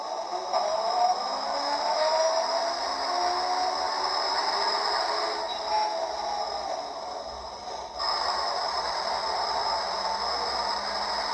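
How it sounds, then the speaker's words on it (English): Engine sound effect from a toy Routemaster bus model kit, a continuous tinny electronic rumble with hiss playing steadily at moderate volume, no talking. "That's the sound of the vehicle driving."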